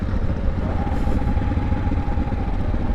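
A 2021 CSC TT250 dirt bike engine running after being flooded during an offroad ride: a steady, close, loud idle with a low clattering throb and no pauses.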